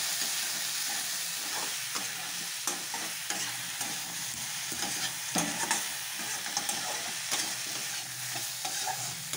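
Chili powder being stirred into a sizzling potato and fish curry in a pan, a steady frying hiss under repeated scraping strokes of the spoon, close and continuous with no talking.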